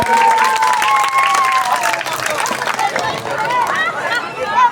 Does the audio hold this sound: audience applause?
yes